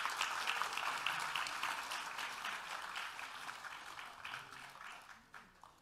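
An audience at a Democratic Party national innovation conference claps together in dense, steady applause that rings out strongly, then thins and fades toward the end.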